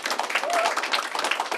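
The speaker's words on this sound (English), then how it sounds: "Give yourselves a round of applause." Children in an audience break into applause on a World Book Day morning broadcast, a dense, lively patter of many small hands with excited voices and cheers mixed in, close and loud throughout.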